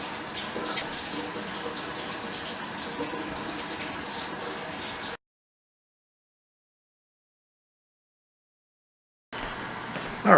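Water pours steadily into a Malawi cichlid aquarium being refilled, a continuous gushing, splashing fill that runs for about five seconds, drops to silence, then resumes near the end.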